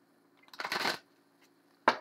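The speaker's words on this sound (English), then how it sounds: "I tend to drop cards a lot when I shuffle them" Tarot deck shuffled by hand: one riffling burst of card flutter lasting about half a second, a pause, then a sharp snap of cards settling, close and clear in a quiet room.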